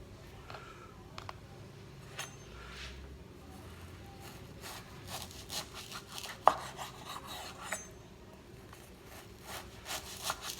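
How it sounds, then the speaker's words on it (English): A knife slicing beef into strips for jerky, heard as soft, close, repeated sawing and rubbing strokes on a cutting surface, fairly quiet, with a few sharper taps. "So I'm going to finish cutting this up and getting it into strips"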